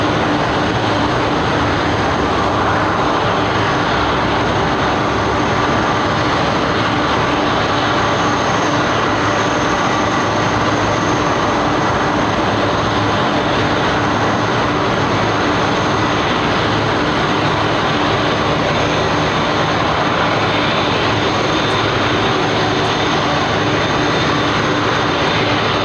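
A loud, steady roar of airliner engines idling at London Heathrow Airport drones on without change for the whole stretch, with a constant high whine above the rumble.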